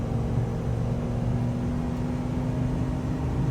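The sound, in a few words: Ford F250 pickup engine pulling 20,000 lb hay trailer uphill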